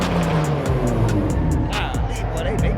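Cars roar and accelerate at a nighttime car meet, loud and continuous with rising engine tones and tire noise, while people talk over the din.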